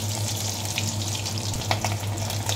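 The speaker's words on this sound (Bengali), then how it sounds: "এবার আলুগুলোকে আগে ভেজে তুলে নেব" Potato pieces frying in plain oil, with a dense, continuous sizzle close up and a few brief clicks of stirring throughout, with no talking.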